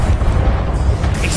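Confringo explosion spell in the Hogwarts Legacy video game, a loud, deep rumbling boom that fills the short moment with heavy low-end roar.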